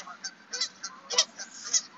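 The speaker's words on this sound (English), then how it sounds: "Behind me, I can hear the geese are honking like crazy." Canada geese honk repeatedly outdoors, a run of loud, nasal calls in quick irregular bursts, fairly close and without talking.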